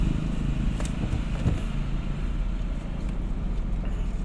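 A driving school car moves off with a steady low engine drone and road rumble, close and continuous, with no voices heard.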